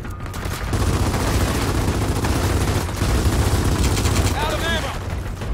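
Gears of War 4 gunfire rattles as sustained, dense bursts of automatic shooting, loud and close, running almost the whole time with a voice occasionally cutting in over the shots.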